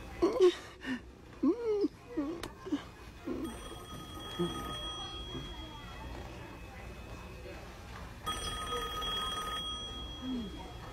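A telephone bell rings in a home, a sustained electronic trill that starts partway through and returns near the end, heard under a voice and some whimpering sounds.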